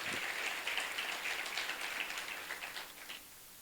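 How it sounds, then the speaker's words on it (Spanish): A church congregation at a Spanish-language service gives a strong, steady round of applause, a dense patter of many hands that holds evenly and then eases off toward the end. "déle un fuerte aplauso en esta hora"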